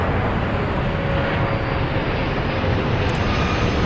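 A jet airplane takes off in the Airport Madness air traffic control game, a steady, loud engine roar that holds evenly throughout with no talk over it.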